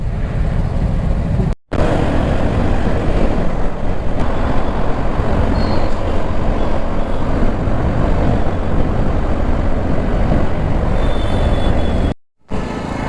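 Dense morning road traffic of motorbikes and cars, a loud, unbroken roar of engines and road noise heard from close by while riding, with two brief dropouts.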